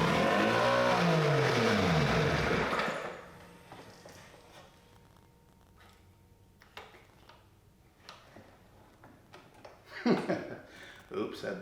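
A 1976 Evinrude 70 hp outboard motor, seized, is cranked on choke, giving a loud churning burst for about three seconds that then stops, followed by quiet handling noises and a few knocks.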